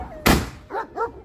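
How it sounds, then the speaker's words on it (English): A small dog gives a sharp bark followed by two short whimpering yips, close and fairly loud, with brief gaps between them. "A fucking little dog came in."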